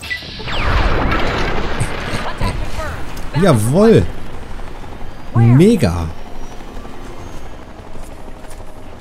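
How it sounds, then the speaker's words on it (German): A helicopter blows up in Fallout: Tale of Two Wastelands with a loud crash and rumble, followed by whooping swept tones, while a voice reacts excitedly. "Jetzt ist der Helikopter explodiert."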